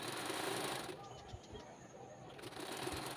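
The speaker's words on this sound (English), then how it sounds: "So I'm going to sew on it and stretch it as I sew." A sewing machine stitches half-inch elastic onto fabric, its fast motor buzz louder at the start and end with a quieter pause in between, with speech heard around it.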